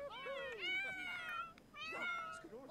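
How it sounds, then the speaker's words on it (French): Cats in The Sims 4 life-simulation game meow for food in a rapid overlapping chorus of loud, drawn-out, wavering cries that fill the whole stretch. "Oh, mais les chats, c'est pas possible! Ils gueulent tous!"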